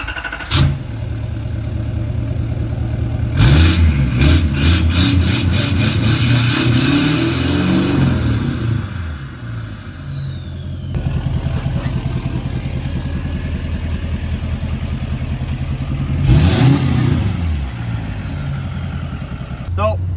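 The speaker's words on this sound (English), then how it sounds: "first drive with the Duramax, and this thing literally sounds like a rocket ship now" An L5P Duramax diesel truck with aftermarket exhaust roars close by, rising through revs in several long pulls with a rough, throbbing exhaust note and loud swells.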